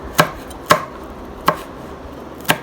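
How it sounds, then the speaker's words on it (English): A knife chops ginger and chillies very fine on a board, four sharp, separate knocks spaced unevenly over a couple of seconds, close and clear with no talking. "Cut the ginger also very fine. Plus these 2 chillies, make them also very fine."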